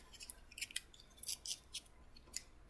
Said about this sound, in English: I got my scissors, so I'm gonna make a little slit right here.